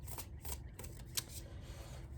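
A Light Seers Tarot deck is shuffled close by, with soft riffling flutters and light card slaps in a quick, uneven rhythm at low volume.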